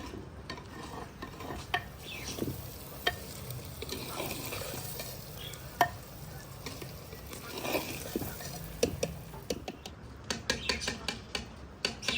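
Okra and eggs frying in a pan give a soft, continuous sizzle, broken by a spatula stirring and scraping with sharp clicks and taps that pick up near the end.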